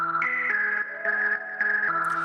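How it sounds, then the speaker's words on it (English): Bright, bubbly synth keys part soloed in Logic Pro X, playing cheerful major-scale chords with a slightly cheesy digital tone; sustained chords change in steady steps, moderately loud with nothing else heard. "it's very major scale tones, sort of a happy kind of almost like cheesy synth sound"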